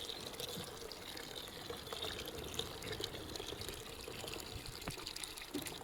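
Water is poured from a receptacle into a baking mix in a home kitchen, a continuous soft trickle and splash running steadily and close throughout.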